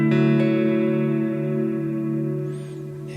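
Electric guitar with a clean tone and the pedal switched off, a sustained ringing chord slowly decaying with bright overtones and a faint sweeping shimmer near the end.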